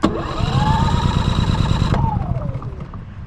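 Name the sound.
Champion 4500 dual fuel generator engine starting on propane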